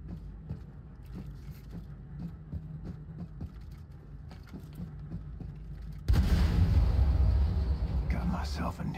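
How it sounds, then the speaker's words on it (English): A hangar explosion in the video game Wolfenstein II The New Colossus bursts in as a sudden loud roaring blast that sustains and rumbles, following a stretch of quieter mechanical thumps and clanks. "Achtung, Explosion im Hangar"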